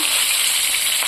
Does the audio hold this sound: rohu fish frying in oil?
yes